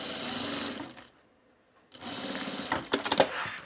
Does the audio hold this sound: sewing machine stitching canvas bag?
yes